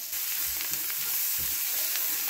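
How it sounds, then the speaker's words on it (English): Butter melts over translucent onions in a pan for chicken croquettes, producing a steady moderate sizzle with a few soft stirring bumps and no voices. "we're going to go ahead and melt in 2 tablespoons of butter"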